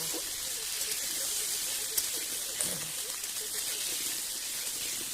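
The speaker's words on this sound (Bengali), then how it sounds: "আমি আলুটা ভেজে নিচ্ছি কড়াইতে লাল লাল করে" Potatoes frying in a kadai until reddish-brown, for a meat curry, give a steady faint broadband hiss of oil that holds evenly throughout with a couple of small pops.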